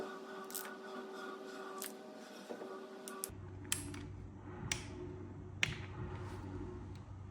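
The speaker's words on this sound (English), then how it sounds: "And then I can torque that up with the torque wrench." A torque wrench tightens the oil drain bolt on a Ducati Monster SP with a 17mm socket, giving close, light metallic clicks and ratcheting ticks over a low hum, with no voices.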